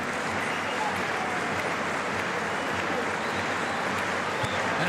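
Japanese supporters cheer steadily from a crowd at a 2007 Rugby World Cup pool match against Fiji, a broad, sustained roar with no breaks that stays at an even loudness throughout.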